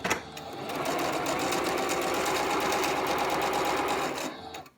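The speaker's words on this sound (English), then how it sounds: "put them in the machine, and just stitch a 1/4 inch" A sewing machine runs continuously, stitching a quarter-inch seam on quilt half square triangles cut from 7-inch squares, with a loud, steady, rapid mechanical whir that starts and stops cleanly.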